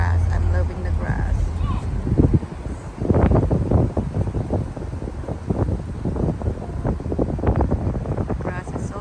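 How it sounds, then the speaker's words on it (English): Gusty wind buffets the microphone outdoors, rumbling steadily with rustling, while people talk underneath. "Nice windy weather."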